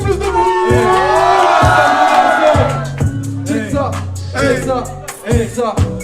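A crowd at an open mic cheers, whoops and shouts in loud bursts, with a voice calling out over the noise and the cheering rising and falling.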